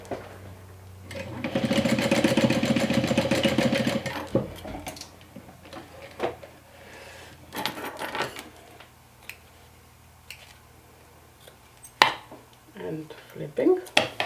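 Sewing machine stitching a quarter-inch seam on fabric, a fast steady burst of mechanical whirring for a few seconds, followed by quieter clicks, fabric handling and thumps nearby.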